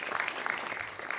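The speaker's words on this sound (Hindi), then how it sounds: "एक बार जोरदार करताली ध्वनि से उनका स्वागत" An audience at a Ministry of Culture Constitution Day event at IGNCA welcomes a guest with a short burst of dense, steady hand clapping, heard briefly and at moderate volume in an indoor hall.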